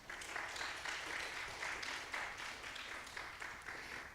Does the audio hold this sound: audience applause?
yes